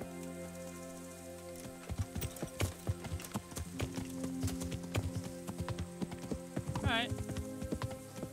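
Rhythmic hoofbeats clip-clop steadily as a horse moves along in the video game Kingdom Come: Deliverance, over a sustained musical backdrop, with a brief whinny-like sound near the end.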